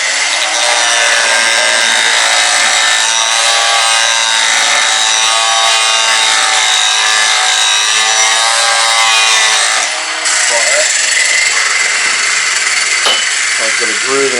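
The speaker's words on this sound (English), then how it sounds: "All I do is cut that out with the grinder." A grinder cuts a groove into a wooden kayak for steering, giving a loud, continuous high-pitched whine with a harsh abrasive edge that runs nearly unbroken for fourteen seconds and falters briefly near the ten-second mark.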